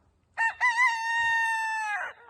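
A rooster crows once, loud and close, a long harmonic call held for over a second before trailing off.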